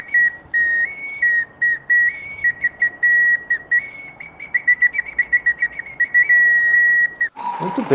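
An indigenous pio whistle imitates bird calls with a series of clear, high piping notes: long held tones, then quicker repeated chirps. A brief voice follows at the very end.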